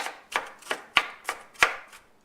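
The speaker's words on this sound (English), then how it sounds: "I'm just going to chop them up like this" A knife chops potatoes on a board for home fries: about six crisp, evenly spaced thuds in a steady rhythm, close and clear against a quiet background.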